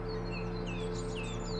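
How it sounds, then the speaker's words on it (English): A song thrush sings at an allotment in the morning, a run of bright repeated whistled phrases over a steady background hum, moderately distant and alone without talk. "the song thrush serenaded me"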